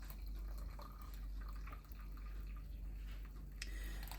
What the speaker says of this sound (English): Just finished pouring my tea.